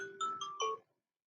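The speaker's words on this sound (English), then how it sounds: "oh, I'm sorry, guys, that's my phone." A mobile phone rings indoors in a home kitchen during dinner preparation, a short melodic ringtone of a few bright chiming notes lasting under a second, then silence.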